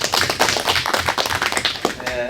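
An audience at a fruit-farming seminar on orchard disease claps in a short burst of scattered hand claps, heard under someone speaking over a microphone.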